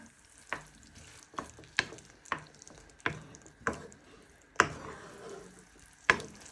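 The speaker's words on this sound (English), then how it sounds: "Give that all a good stir." Sloppy joe mince with Worcestershire sauce stirred in a pan, a spoon striking the pan in a steady series of about eight crisp scrapes and knocks over a soft sizzle.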